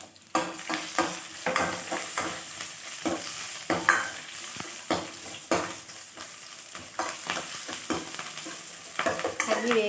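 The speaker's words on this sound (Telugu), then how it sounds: "అవి వేగుతున్నాయి కదా, పచ్చిమిర్చి" Green and dried chilies fry in a pan, a close sizzle broken by repeated scraping stirs at an irregular rhythm, with no voices.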